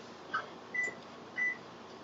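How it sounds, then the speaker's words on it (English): Kitchen oven timer buzzing three times in short, evenly spaced beeps, faint and thin against a soft steady room hum, with no voices. "Let me turn the buzzer off."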